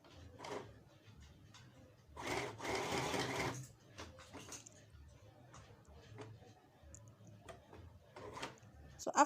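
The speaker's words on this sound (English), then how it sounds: "I'm just going to take it to my sewing machine now" A sewing machine whirs in a short steady run, surrounded by quieter clicks and handling noises; a voice murmurs faintly in the background.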